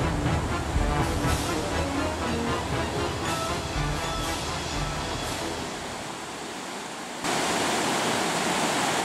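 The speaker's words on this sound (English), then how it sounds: "See, the waves keep on going up over them." Surf rushes and churns in a continuous broad wash, with breaking waves swelling and fading loudly close by.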